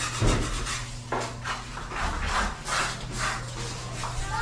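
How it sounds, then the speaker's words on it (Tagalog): Sandpaper rasping back and forth across solid mahogany wood in steady rhythmic strokes, close by, with a faint low hum underneath. "konting hagod pa, konting liha"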